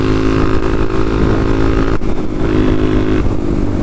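A supermoto motorcycle fitted with an FCR carburetor runs steadily close by, its engine holding a continuous droning hum with a slight dip partway through.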